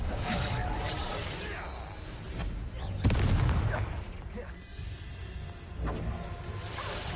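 Bombarda and Incendio spells cast in Hogwarts Legacy, loud blasts and whooshing fiery bursts in quick succession, with a heavy boom near the middle, continuous and dense throughout.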